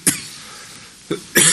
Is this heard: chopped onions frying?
no